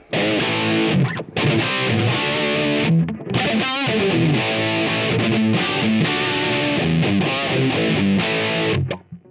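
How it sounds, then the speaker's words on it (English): Heavily distorted electric guitar chords through a POD HD500X tube distortion effect ring out loud and sustained, with a couple of brief breaks between strummed phrases. "So what I'm going to do is I'm going to add my tube distortion."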